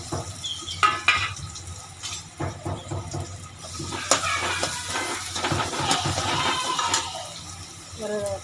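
Small onions hit hot oil with mustard seeds and dals in a pan, giving a loud, close sizzle and frying hiss with stirring scrapes and clatter as Tamil speech is heard.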